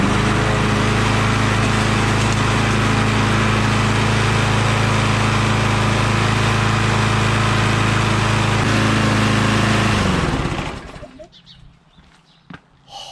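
A lawn mower engine treated with Seafoam runs loud and steady at close range, then cuts out and goes quiet near the end.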